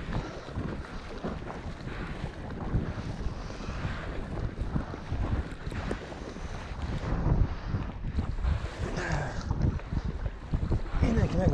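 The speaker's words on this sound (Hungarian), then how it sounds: "szél is onnan fúj, és fújja a hullámokat errefele" Strong wind buffets the microphone on a lake, beside a rocky wall, from a kayak. A steady, loud roar of gusts carries over lapping waves and water splashing against the boat.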